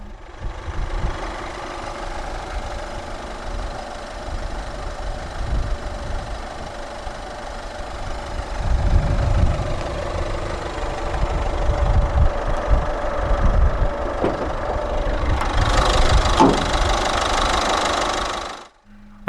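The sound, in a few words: 2014 Peugeot 2008 1.6 e-HDi turbo diesel engine idling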